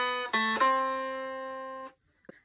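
Dulcimer plucks a short bluesy lick on the middle string: a few quick notes sliding into one ringing tone that decays for over a second, close and clear, followed by a faint noise.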